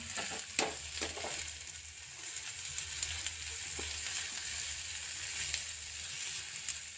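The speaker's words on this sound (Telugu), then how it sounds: "ఇది కొంచెం బ్రౌన్ కలర్ వచ్చేదాకా, కొంచెం ఎక్కువ కాదు, కొంచెం బ్రౌనిష్ వచ్చేదాకా వేయించుకోవాలి" Okra fries in a pan with curry leaves, a steady soft sizzle and crackle running throughout, broken by a few sharper pops and scrapes of stirring near the start. No one speaks.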